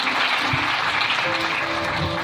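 A church congregation applauds to acclaim the Lord, a dense, steady wash of clapping from many hands filling the room throughout, with faint voices underneath.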